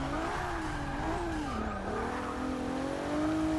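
A Volvo S60 race car in Forza Motorsport 6 holds a loud, steady engine drone that dips and rises through a corner while the tires squeal and skid, close and continuous.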